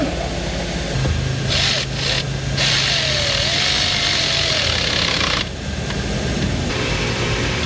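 A Chevrolet Colorado engine cranks and starts, then settles into a steady idle. A hiss-like noise enters and drops out partway through, and the engine keeps running on its own without any voices.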